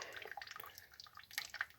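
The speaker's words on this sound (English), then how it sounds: "let a bit of the water drain off" Water drips and trickles off wet hops lifted out for dry hopping beer, a quiet run of small irregular patters and splashes over about two seconds with no talk.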